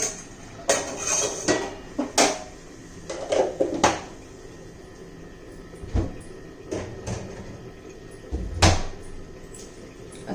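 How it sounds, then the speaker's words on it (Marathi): Clattering kitchen sounds around a pot of cauliflower curry, with metal knocks, scrapes and a lid set down, come as a dozen or so sharp, close clinks and thuds spread unevenly, without speech. "चांगला हलवून घेऊ झाकण ठेवूया"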